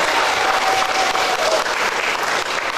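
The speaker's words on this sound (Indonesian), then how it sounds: "Dan saya tepuk tangan ya" Loud, dense applause from an audience at a company Halal Bihalal gathering of a media group, continuous clapping filling the room without pause.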